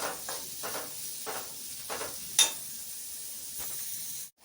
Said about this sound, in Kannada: ಇವಾಗ ಮೆಣಸಿನ್ಕಾಯಿ ಹಾಕೋತಾ ಇದ್ದೀನಿ. ಹಾಗೆ ಒಂದು ಸ್ವಲ್ಪ ಕರಿಬೇವು ಹಾಕೋತಿದ್ದೀನಿ ಇವಾಗಲೇ ಫ್ರೈ ಆಗುತ್ತೆ.